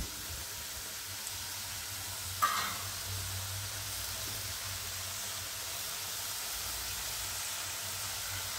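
Ground spices such as Kashmiri chilli and fennel powder sizzling in a hot frying pan for a tinda and sweet corn curry, a steady soft hiss with a brief louder burst as they go in, no talk.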